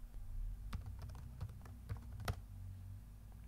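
Keys clatter on a computer keyboard in quiet bursts of typing, with a steady low hum beneath the taps.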